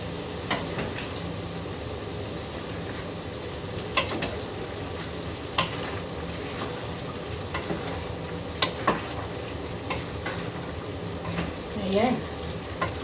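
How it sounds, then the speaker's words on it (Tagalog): Eggplant adobo stirred in a frying pan, a low steady sizzle under scattered scraping clicks from the spoon against the pan, with brief bursts of speech. "Haluin natin to."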